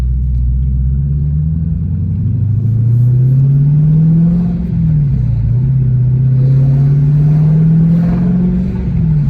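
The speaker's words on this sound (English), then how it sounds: "this car's starting to sound so good, man, with the that exhaust note finally opening up" A Dodge Challenger Scat Pack engine revs up through the exhaust, a deep rumbling note rising and falling in pitch as it accelerates, loud and close, no voices.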